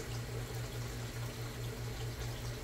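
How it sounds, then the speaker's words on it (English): Steady, continuous rush of liquid poured onto dry material, unbroken and fairly loud from start to finish. "let me just add a little bit of liquid to that"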